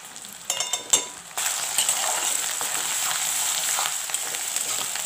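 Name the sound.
spices frying in oil for cauliflower recipe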